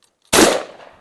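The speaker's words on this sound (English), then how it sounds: "All right, here goes one shot." A single sharp shot from a homebuilt AR rifle, loud and close, bursting out of silence and ringing down over about half a second.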